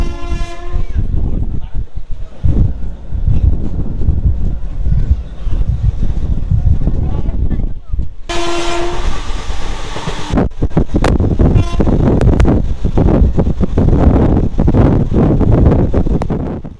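A Kolkata–Silchar special sleeper-class train runs with loud rumbling wheels and clattering cars, a horn blast sounding midway, with wind buffeting the microphone.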